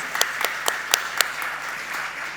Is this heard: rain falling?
no